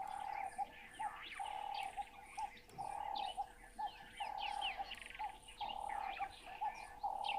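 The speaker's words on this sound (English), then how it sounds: "definitely is a very relaxing way to spend some time listening to the birds of the different areas" A morning bird chorus at Gari Dam in Okaukuejo, with many birds chirping and calling over one another, including a repeated clear whistled phrase, steady and moderately close with a soft background hum and no talk.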